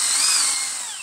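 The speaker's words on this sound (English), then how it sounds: "But just to speed up for the camera, I'm using my hand drill." A hand drill whines loudly and steadily as it bores through a wooden pen blank, its high pitch sagging slightly toward the end. The drill is close and sounds alone.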